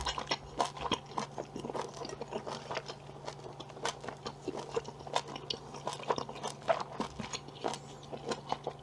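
Someone chews tough beef rib meat from galbitang at close range, with repeated soft crunchy bites and mouth sounds in an irregular rhythm over a low steady hum, and no talking.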